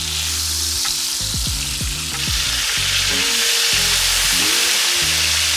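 Fish frying in a pan with pepper is stirred, giving a steady, loud sizzle with clattering utensil scrapes and pan knocks throughout, with a sustained low hum beneath.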